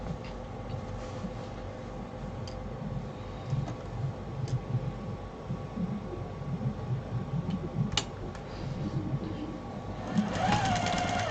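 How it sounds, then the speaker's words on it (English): A sewing machine stitches a quilt with a steady, fast mechanical whirr and chatter, close and continuous for about eleven seconds, with a brief rise in intensity near the end. "And I'm going to start sewing it."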